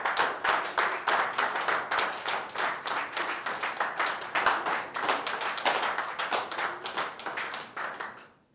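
Steady applause from a standing crowd at a women's rights session, many hands clapping continuously at a lively even level before fading out at the end.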